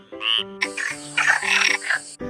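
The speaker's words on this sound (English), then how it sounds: "F for frog." A frog croaks in a few rapid, tonal bursts, loud and close, with brief pauses between calls against a quiet background.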